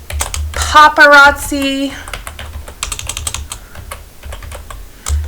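Computer keyboard typing, a rapid run of light, uneven key clicks heard close up, broken by a voice talking over the first part.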